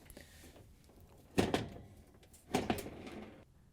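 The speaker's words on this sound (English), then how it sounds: "And then we can carefully lift it off the hinges on each side." An Amana oven range door lifted off its hinges, making two quiet, separate metallic clunks about a second apart in a hushed room.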